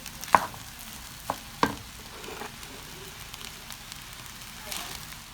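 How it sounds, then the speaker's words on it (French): Fried rice with eggs being stirred and turned in a pan, a soft steady sizzle with a few sharp scraping clacks of the utensil early on, while a person talks quietly. "Je vais encore bien retourner, tout mélanger, que les œufs vraiment prennent sur"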